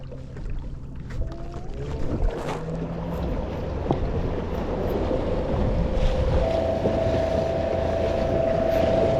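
A Newport NT30 3 hp electric outboard on a Jonny Boats Bass 100 kayak, with water and hull noise at first and then a steady, thin electric whine that starts partway through and holds to the end.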